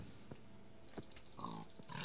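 Pigs in the Minecraft video game grunt and oink in a few short, separate bursts, faint against a quiet background, in a newly found biome.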